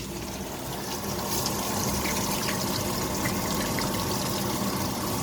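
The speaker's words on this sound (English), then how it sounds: "I'm going to take this hot water and then pour it in there" Hot water is poured into a bowl in a home kitchen while tilapia cooks nearby, giving a continuous, fairly loud rushing splash that holds steady from start to finish, with no talking.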